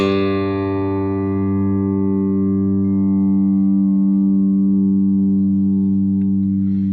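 A single low note on an Ashton AB2 electric bass, through a small 20-watt amp at half volume, rings out and sustains steadily for several seconds, loud and rich in harmonics, slowly losing its upper overtones.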